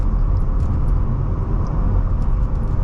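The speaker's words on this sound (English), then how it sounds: "this has that engine sound" A car engine drones steadily from inside the cabin while driving, a loud continuous low rumble with road noise that holds even throughout, no voices over it.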